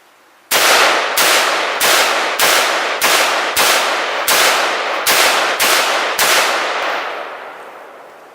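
An AR-15 rifle fires 5.56 green tip NATO rounds into a BallistiCore bulletproof barrier: about ten sharp, loud, close shots at a steady pace, each with a bright ringing tail, and the last few fade slightly.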